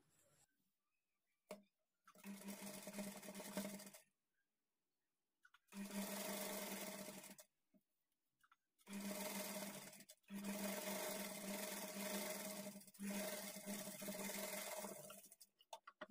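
A sewing machine stitches a high neck blouse in several bursts of whirring, each lasting a couple of seconds, separated by silent pauses, close and steady with no voices.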